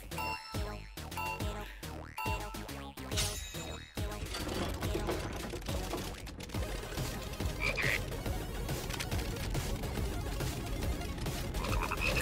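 Frogs croak in Final Fantasy VII Rebirth, first in sharp separate bursts and then in a dense, steady chorus mixed with game music and effects, with no talk.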